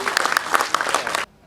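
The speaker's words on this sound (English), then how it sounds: "Let's have a big round of applause for them" A short burst of audience applause at a music talk event, dense clapping that stops abruptly after about a second, leaving near silence.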